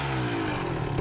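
KTM 125XC two-stroke dirt bike revving at night as the clutch is popped, a short loud engine burst with the pitch falling slightly, up close.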